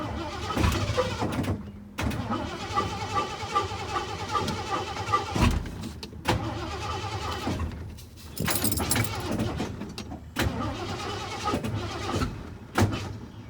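Broken truck being given gas, a mid-pitched engine cranking and revving in repeated bursts with short gaps, close and loud, no voices over it.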